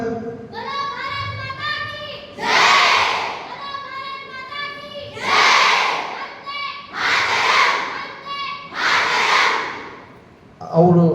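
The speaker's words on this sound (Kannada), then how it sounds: "ಒಂದ್ಸಲ ಜೈಕಾರ ಹುಡಿ ಹೆಂಗಂತ" A group of students shouting a patriotic victory cheer (jaikara) during an Independence Day rehearsal, with a leader calling and several loud collective shouts answering in a call-and-response pattern, close and energetic.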